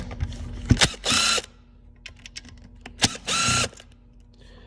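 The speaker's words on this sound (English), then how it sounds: "And I'll take the Phillips screws off next." Power screwdriver backing Phillips screws out of a 250 amp alternator, two short whirring bursts of about half a second each, separated by clicks and light handling clatter in a quiet workshop.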